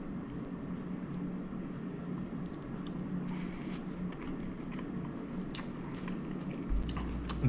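Close, steady chewing and biting on a chicken teriyaki bowl with crispy-coated chicken, noodles and sesame seeds, crunchy bites repeating over a low continuous rumble, with no talking.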